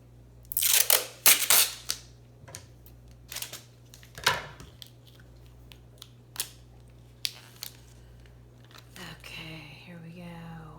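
Packing tape is handled and cut for an art-project pouch, giving a series of close, sharp ripping and snipping bursts with crinkly rustles between them and a longer tearing stretch at the end.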